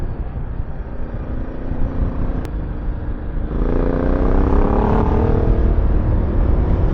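A motorcycle on the Marilaque mountain highway near Tanay drones past with a steady engine roar that swells and rises in pitch as it nears, heard alone at moderate distance.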